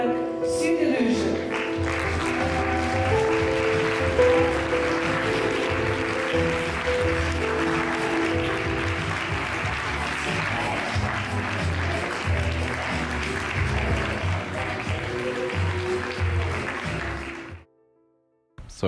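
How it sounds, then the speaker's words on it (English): A theatre audience applauds a performance artist, a sustained wash of clapping mixed with music-like tones and murmuring that runs steadily for most of the clip before cutting off abruptly. "we'll give you a warm round of applause, ladies and gentlemen, for Luke Rudman"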